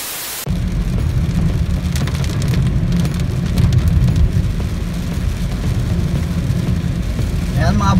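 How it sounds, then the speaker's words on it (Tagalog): Heavy rain pouring onto a car, a dense, steady, loud drumming wash that runs unbroken throughout, with a brief squeaky sound near the end. "napakalakas ng ulan"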